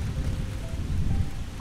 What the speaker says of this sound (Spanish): Por fin, a finales de noviembre, llegan las lluvias.